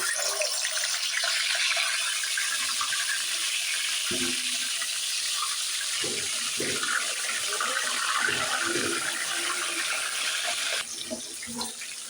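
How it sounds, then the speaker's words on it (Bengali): Food frying in hot oil for a family meal, a steady broadband sizzle that runs loud and continuous, with a few scattered clinks and spatters, then softening slightly near the end. "তেলটা গরম হয়ে আসছে এবার আমি আস্তা এগুলো বেজে নিচ্ছি"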